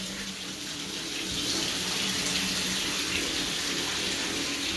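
Flooding water runs in a steady, continuous gush like a fully opened tap. It is close and unbroken, growing slightly louder partway through, with no voices over it.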